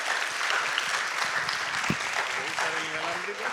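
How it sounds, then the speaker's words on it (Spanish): Audience applause at an engineering seminar, a steady moderate patter of clapping throughout the short stretch, with faint murmuring beneath. "yo les quiero pedir que le demos un fuerte y caluroso aplauso de agradecimiento a Juan Carlos"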